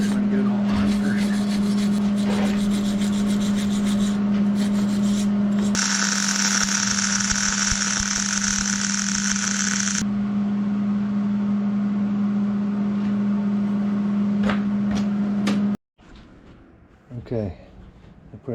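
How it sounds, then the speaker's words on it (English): Heavy cap weld being run around a 3 point hitch receiver: a steady, loud electric buzz with hiss continues for about sixteen seconds, then cuts off, leaving a few quieter scrapes. "I put a nice heavy cap weld, and it's all the way around"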